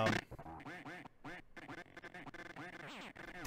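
Ducks quack repeatedly in Metal Gear Solid V: The Phantom Pain, a dense run of loud nasal calls with a few brief gaps and no talking.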